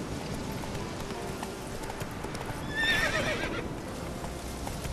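A horse in The Witcher 3 gives a sharp neigh over a quiet bed of galloping hoofbeats, the whinny rising briefly near the middle of the short passage.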